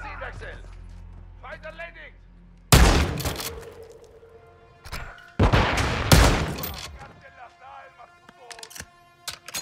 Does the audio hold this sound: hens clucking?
no